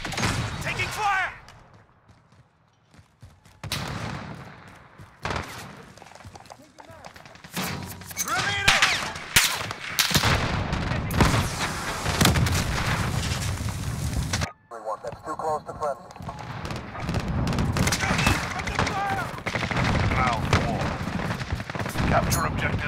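Dense, sustained gunfire from Call of Duty: Modern Warfare mixes automatic bursts and heavy blasts. The firing runs almost continuously for over twenty seconds, pausing briefly near the start and midway, with voices speaking over it.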